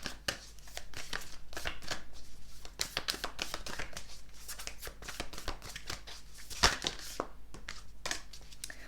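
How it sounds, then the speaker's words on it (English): Starseed Oracle cards are shuffled by hand in a quick, continuous riffle of soft slaps and flutters, close and moderately quiet, with one sharper snap near the end. "let's pick up one more Starseed Oracle card"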